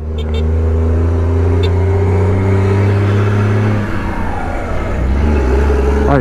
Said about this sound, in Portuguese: Tô dando torque aqui para me desvencilhar desse engarrafamento.